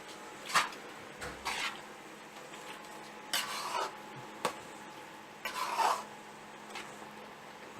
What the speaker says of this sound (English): Now I will mix till the sugar dissolves.